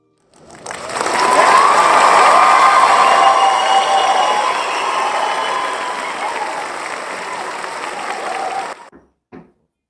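A canned crowd cheer played from a sound-effect button, a loud burst of clapping and whooping that fades in, holds for several seconds, then cuts off abruptly, followed by a short trailing blip.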